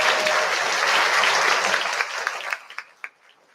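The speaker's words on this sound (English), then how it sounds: "Please give them a great round of applause." Loud, dense applause from a crowd at a 5th grade school awards ceremony, thinning out into a few scattered claps before fading away.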